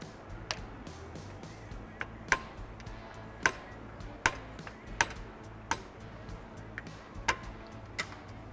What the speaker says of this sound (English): I'll take a socket like this and put it somewhere that you can hit it through.